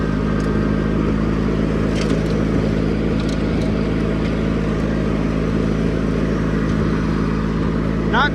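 A John Deere 420 garden tractor engine snowblowing in winter, a steady low drone that holds an even pitch from start to finish.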